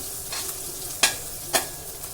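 Onion and green chili fry in a pan with a soft continuous sizzle, broken by two sharp scraping stirs of a spatula about half a second apart.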